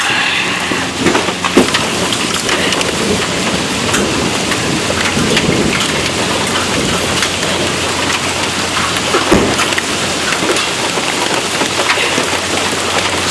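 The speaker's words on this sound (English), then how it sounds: "And yes, you can tell it is raining." Steady rain falls outdoors beside a 1996 Chevrolet Blazer under repair, a continuous dense hiss with occasional louder drips and knocks throughout.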